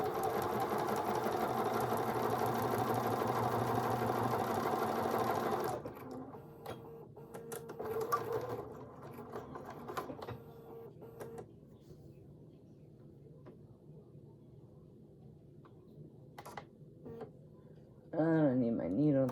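A sewing machine stitches a mini appliqué wallhanging quilt in a steady, loud whirring run for about five seconds, then stops; quieter handling clicks and a short final burst of stitching follow.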